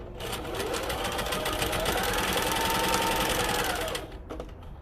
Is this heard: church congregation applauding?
no